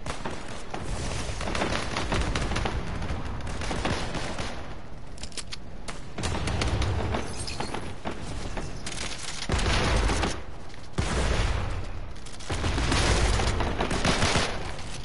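Sustained gunfire in the Fortnite video game, dense rapid bursts and booming shots continuing almost without pause, loud and close throughout.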